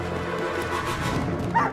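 Dog from a Hawkeye episode barking and yipping in a short, excited burst over a busy mix of sound.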